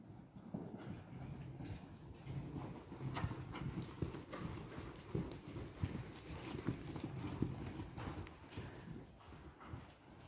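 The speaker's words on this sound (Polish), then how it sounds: "ruszamy kłusem anglezowanym za koniem czołowym Etna" Several horses trot at a rising trot during a riding lesson, a continuous rhythmic clatter of hooves heard moderately close, with no talk.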